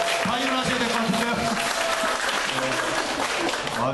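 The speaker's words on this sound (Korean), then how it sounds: "높게 환호의 박수라도 좀 다시 해주세요" A classroom audience at a school lesson event claps steadily and loudly while voices cheer and talk over the applause.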